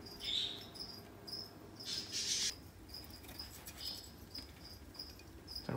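Steady high-pitched insect chirping, like crickets, repeating in short pulses over a faint background hiss, with a few brief bird-like tweets.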